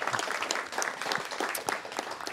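An audience at a local community gathering in Brigueuil claps, a short burst of dense, fairly close applause that holds steady without voices.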